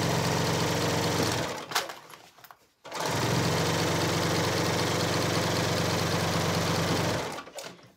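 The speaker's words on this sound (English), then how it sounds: "the serger cut the fabric" A serger runs in two long, fast bursts with a brief stop between, its rapid mechanical whir steady and close while its knife trims fabric and stitches the edge, then it halts near the end.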